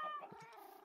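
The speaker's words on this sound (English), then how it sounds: "I got more cats." A cat in the video game Minecraft gives one short, faint meow, alone and quickly fading.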